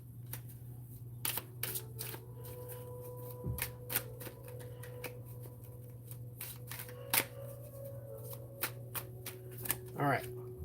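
Tarot cards being shuffled in repeated crisp riffling bursts, close and clear, over a steady low hum, with brief speech nearby.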